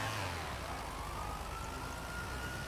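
Police car siren in a video game, a continuous wailing tone rising and falling, fairly faint and distant, alone with no talk.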